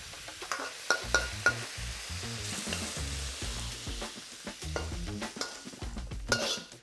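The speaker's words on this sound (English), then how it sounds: "I want to keep it flash frying." Cucumber stir fry flash frying in a hot pan gives a loud, steady sizzle, broken by repeated stirring and tossing clatters.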